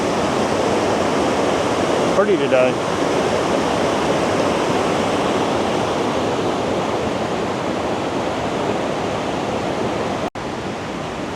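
A heavy waterfall pours in a steady, loud broadband rush among rocks after 2 to 3 inches of rain. A voice speaks briefly near the start.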